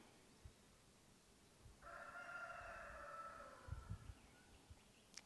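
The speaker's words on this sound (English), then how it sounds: "There goes Bobby Martin, our rooster." A rooster crows once in a long, drawn-out call heard from a distance, faint against quiet background noise with a few soft knocks.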